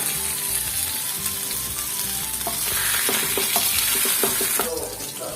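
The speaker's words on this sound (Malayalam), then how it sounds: "ഇതുപോലെ നമുക്ക് ബാക്കിയുള്ള 2 മീനും കൂടെ ഫ്രൈ ചെയ്തെടുക്കാം" Vatta fish frying in a hot pan for a fish nirvana dish, a steady close sizzle of oil with scraping and stirring clinks from a utensil toward the end, no voices.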